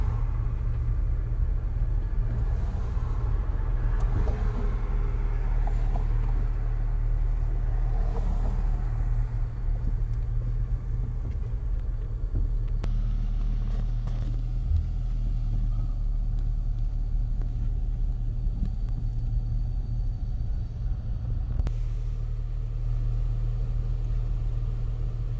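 Heavy city traffic in Toronto, with many cars and pedestrians, rolls on as a steady low rumble of engines for the whole stretch, with occasional faint passing sounds over the constant drone.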